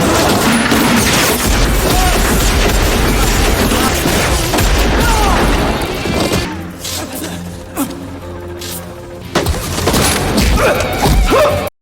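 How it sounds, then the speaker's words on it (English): Dense, loud burst of movie gunfire and booming impacts in a gunfight at a collapsing mine, continuous at first, then giving way to scattered shots and crashes. "A violent gunfight erupts."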